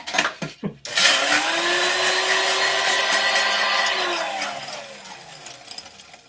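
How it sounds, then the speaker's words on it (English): An electric blender crushes about six ounces of ice for a Zombie tiki drink, starting after a few knocks and then whirring loudly for roughly four seconds, its pitch sagging slightly before it winds down. "a second one here that needs an approximation of 6 ounces of ice, 5 seconds of blending"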